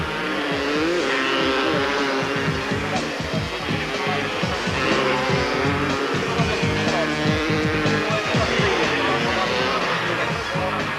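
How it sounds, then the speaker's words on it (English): Several Honda racing motorcycles circle a race track, their high-revving engines overlapping loudly and continuously with rising and falling pitch as they pass, under steady commentary-like talk. "the spectators were entertained by a spectacular battle between Gary Lipchek and Alan Julian, both on Hondas"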